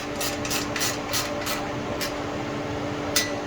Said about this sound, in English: I'm using a deep 8mm to secure this down